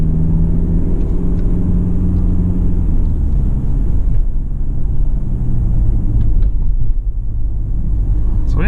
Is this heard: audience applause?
no